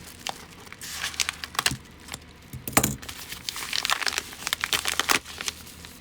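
A sealed box of Magic: The Gathering basic land cards being cut open, close crinkling and tearing of plastic wrap and cardboard in quick irregular bursts, with no talking.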